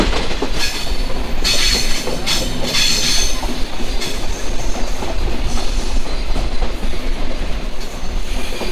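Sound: train running on rails

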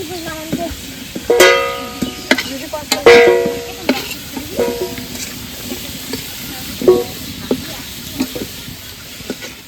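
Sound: potatoes frying in oil

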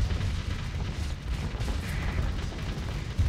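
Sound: starship weapons firing in the video game Starsector

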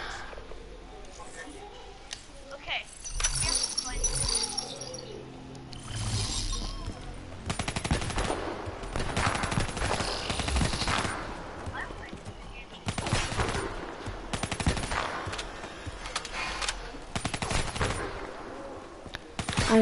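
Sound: gunfire from the video game Call of Duty: Black Ops

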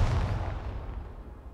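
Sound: tank gunfire, from video game Second Front

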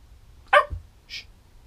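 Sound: dog barking

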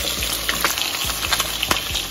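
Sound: pork ribs frying in a pan over high heat

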